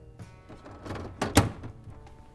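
A Sub-Zero refrigerator door swings shut during annual maintenance after a new air purifier is fitted, landing as a single soft, close thunk with a brief rattle before it.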